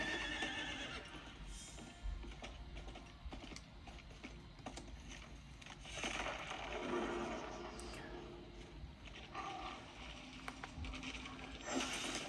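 A horse in the video game Diablo IV whinnies amid clip-clopping hooves, the sounds mixed with busy game effects and ambient noise, fairly quiet overall.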